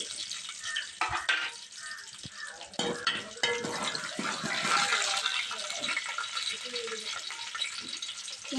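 Green chillies and tomato sizzle and spit in hot oil in a home kitchen, a steady frying hiss broken by clattering stirs of the pan and a few louder bursts, with faint voices in the background.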